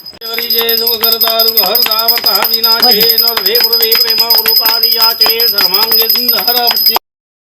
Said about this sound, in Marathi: घंटी घे वाजव